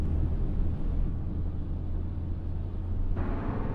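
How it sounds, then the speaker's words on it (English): A Chrysler 200 mid-size sedan with a V6 engine accelerates, a steady low rumble with a smooth rising drone and no whine, heard alone without talk. "That's the sound of a mid-size sedan that doesn't whine when you step on the gas."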